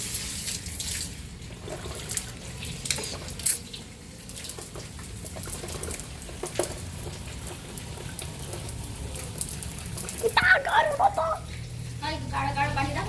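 Water runs and splashes while dirty window mesh screens are washed at home, a low, uneven wash of flowing water with scattered knocks and clatters, heard under nearby voices talking.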